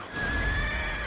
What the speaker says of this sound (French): Je vais prendre mon cheval.